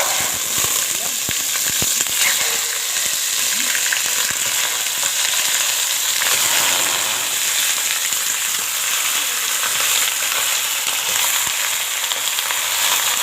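Chicken pieces frying in hot oil flavored with mastic, a dense, continuous crackling sizzle close by with scattered sharp pops throughout, no voices.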